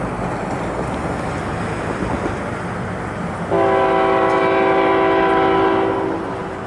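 A passing freight train rumbles steadily before its horn cuts in halfway through, a loud sustained multi-tone blast held for about three seconds over the rolling train noise.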